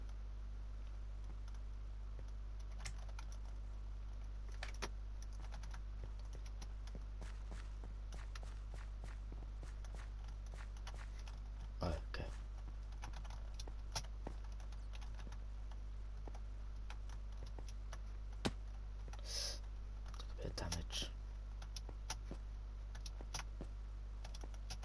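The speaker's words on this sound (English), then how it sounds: "Sorry if my keyboard's making any noise." Soft, intermittent clicks of typing on a computer keyboard, faint and close, with scattered louder taps over a steady low hum, no talking.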